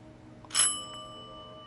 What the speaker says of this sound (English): Oh, to ring the doorbell?